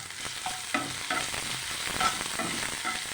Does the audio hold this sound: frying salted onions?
yes